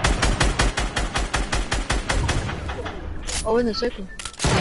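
Rapid bursts of gunfire from a PS4 shooter, a steady rattling run of shots in the first half, then voices shouting over a quieter stretch with more shots near the end.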